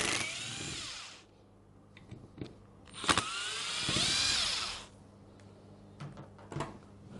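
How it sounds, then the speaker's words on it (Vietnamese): A powered driver with a T20 bit backs out two screws holding the starter coil of a Bosch GSH 5 Professional demolition hammer, giving two rising-and-falling motor whines separated by quiet handling clicks. "chúng ta sẵn sàng tháo hai ốc này để lấy cuộn dây starter"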